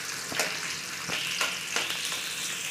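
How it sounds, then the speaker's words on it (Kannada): Onion frying in hot oil in a pan, a soft, steady sizzle with a few quick stirring scrapes, close and fairly quiet. "ಈರುಳ್ಳಿ ಹಾಕ್ಕೊಂಡು ಇದನ್ನು ನೀಟಾಗಿ ಫ್ರೈ ಮಾಡ್ಕೋಬೇಕು."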